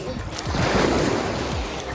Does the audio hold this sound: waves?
yes